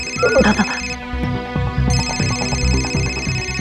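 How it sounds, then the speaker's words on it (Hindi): Telephone ringing with a melodic electronic ringtone, a repeating pulsing tune heard close with some voice sounds and rustling at the start. "फोन उठा।"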